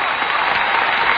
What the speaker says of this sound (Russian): Вот надо больше немножко аплодировать нам сегодня